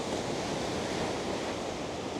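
Ocean surf pounds against rocks at Carolina Beach's North End, a loud, continuous roaring wash of breaking water mixed with wind rumble.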